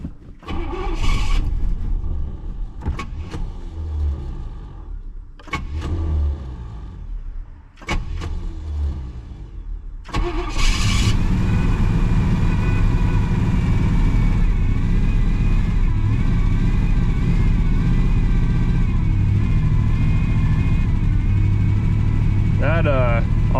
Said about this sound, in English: That alternator's making a bunch of noise.